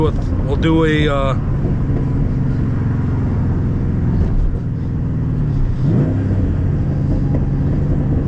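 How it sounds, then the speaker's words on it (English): A cammed Camaro Z/28 engine roars through a hard second gear pull, a loud steady low rumble heard from inside the car, with a brief shout at the start and a gear change partway through. "I'm gonna do a second gear pull."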